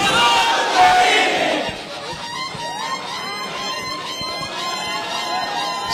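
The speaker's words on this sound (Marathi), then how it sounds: "सगळ्या पुरुषांनी जल्लोष केला" Men in a crowd at a political rally in Indapur cheer and shout together, a loud swell of voices that fades into scattered calls and chatter from many people.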